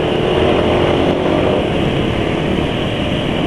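A two-stroke motorcycle running Idemitsu 10W-40 JASO MB oil mixed with corn oil roars at full throttle, a loud, steady, close engine drone that stays sustained with no pauses.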